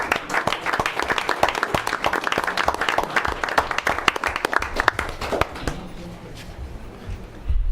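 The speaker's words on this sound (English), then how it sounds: "One more round of applause for 35 years." Applause at a school district Board of Education meeting, honoring 35 years of service: a dense, steady clapping from a room of attendees that fades out toward the end.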